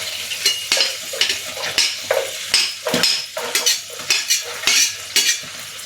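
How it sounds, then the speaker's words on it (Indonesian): Shallots, garlic and chili sautéing together in a pan, a close steady sizzle broken by repeated scraping strokes of a spatula against the metal, roughly two stirs per second, with no voices. "Di sini aku punya bawang merah sama bawang putih, cabai, semuanya ditumis jadi satu ya"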